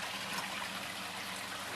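Water trickling and splashing steadily from three pump-fed upflow sand and gravel pond filters into a 250-gallon basin, a close, continuous broadband rush with no talking.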